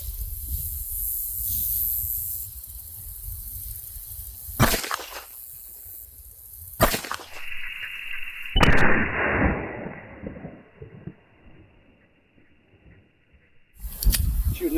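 .380 pistol firing Hornady Critical Defense rounds into pork ribs, heard as a few sharp, loud reports spaced apart outdoors, with a lingering high hiss and a quieter stretch between shots.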